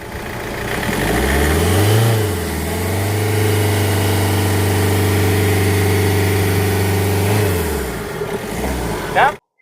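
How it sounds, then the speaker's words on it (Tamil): A Hyundai Creta engine revs up from idle, holds a loud, steady high rev for several seconds, then drops back toward idle before cutting off abruptly. "மறுபடியும் ரைஸ் பண்ணுங்க சார்"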